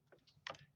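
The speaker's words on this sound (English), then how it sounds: "now I type that full file name again" A few quick keystrokes on a computer keyboard while a file name is entered, faint and brief, with no talking.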